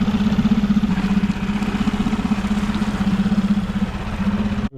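A boat outboard motor idles steadily at close range with a low, throbbing pulse, running alone until it is abruptly cut off near the end.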